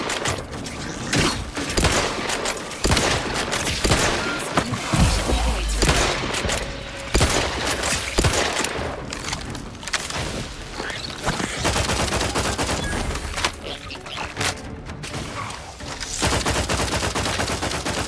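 Sustained heavy gunfire from The Outer Worlds 2, with dense rapid bursts and booming shots running almost nonstop, loud and close. A voice speaks briefly over the shooting.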